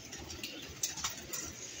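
Soft cooing from a large flock of racing pigeons kept by a pigeon fancier, a few low throaty coos close by over faint background rustle and murmur.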